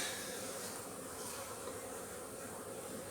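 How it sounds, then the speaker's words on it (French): A honeybee swarm hanging together at a hive in an apiary, giving a dense, continuous, steady buzz heard fairly faintly and alone. "C'est un bel essaim qui tient bien."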